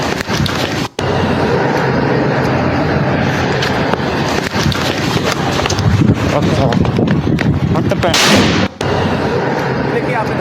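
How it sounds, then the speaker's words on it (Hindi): A hand grenade explodes outside the BJP office in Chandigarh, recorded on CCTV: loud, harsh blasts and crackling bursts fill the scene, with sharp dropouts and voices talking over the noise. "देखिए, आपने धमाका सुना।"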